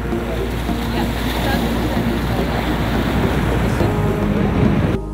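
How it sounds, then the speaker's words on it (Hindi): Sea waves surge and wash steadily nearby on a Maldives shore, a loud continuous roar mixed with wind buffeting the microphone. "और बगल में समुंदर जैसे उछाल मारता रहता है"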